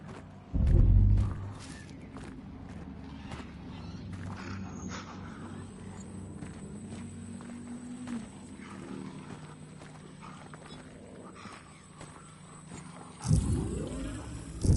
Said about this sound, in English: I heard some kind of roar.